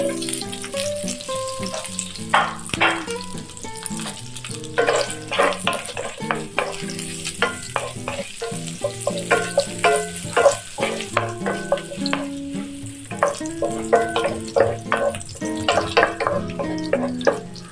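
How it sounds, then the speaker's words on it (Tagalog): Ginger sizzles and crackles in melted butter in a pan while being stirred, with frequent sharp clinks of a utensil against the pan over a steady frying hiss, close and loud, without speech. "Butter. Magigisa na tayo. Unahin ko yung ginger."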